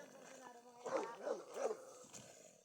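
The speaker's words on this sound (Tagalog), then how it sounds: "Yun ang aso." A dog barks a few times at moderate distance on a walnut farm, the short yelping barks mixed with voices talking nearby.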